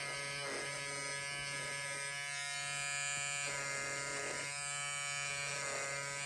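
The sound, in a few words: electric Peggy stitch eraser removing bobbin threads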